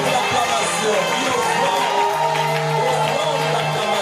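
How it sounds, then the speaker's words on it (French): A church congregation cheers and shouts in acclamation, a loud, continuous crowd roar with raised voices and sung tones mixed throughout. "On lui donne une offrande d'acclamation"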